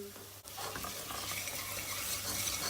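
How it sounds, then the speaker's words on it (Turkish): Dried mint and tomato paste fry together in a pot while being stirred, giving a soft, steady sizzle with gentle scraping after a brief pause near the start. "Naneyi de ortalama 20 saniye kadar bir kavurdum salçayla beraber."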